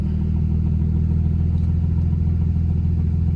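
A boosted BMW N54 engine idles steadily while warming up, a continuous low, loud rumble with an even, slightly pulsing texture and no talk over it.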